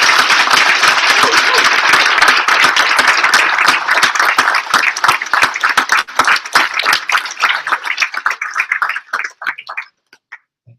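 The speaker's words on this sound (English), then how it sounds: "give a huge applause to all our lovely graduates" Sustained audience applause at a graduation ceremony, dense clapping from a crowd that holds steady for several seconds before thinning into scattered claps and fading out near the end.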